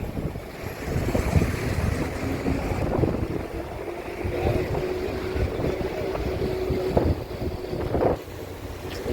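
Strong wind blows along the seafront in Dubai, buffeting the microphone with a continuous rough roar. Faint surf-like rushing sits underneath, and there is no talking.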